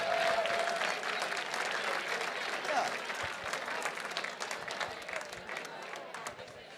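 Gala audience applauding donors, a sustained burst of many hands clapping in a large room, starting strong and gradually tapering, with a voice briefly heard over it.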